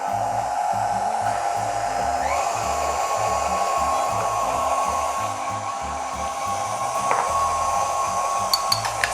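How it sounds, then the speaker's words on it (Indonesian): An electric stand mixer beats muffin batter for mac and cheese muffins in its bowl, a loud continuous motor whine that steps up in pitch partway through and runs steadily, with a few faint clicks near the end. "Ini aku matiin lagi mixernya."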